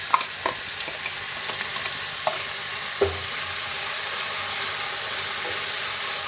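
Chopped onions hit hot oil already seasoned with cumin and asafoetida, for a gram-flour sabzi, and fry with a continuous close hiss, punctuated by a few light clicks of a spoon against the pan.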